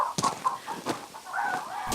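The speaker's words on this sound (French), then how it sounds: "je regarde mes poules qui sont en train de gratter mon jardin" Hens scratching about in a garden give soft, intermittent clucks and short calls, some brief rustling between them, fairly close and moderately quiet.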